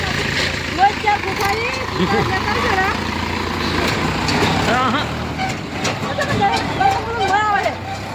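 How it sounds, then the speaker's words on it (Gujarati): A tractor runs a groundnut-shelling machine in a farm field, a loud continuous engine drone with mechanical rattle while several people talk over it. "આ મગફળી શેળવાન ટ્રેક્ટર છે"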